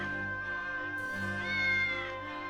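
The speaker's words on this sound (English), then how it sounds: "Another kitty, see?" A cat meows in the video game Triangle Strategy, a single drawn-out, steady call with a rising swell near the end over a continuous game music bed.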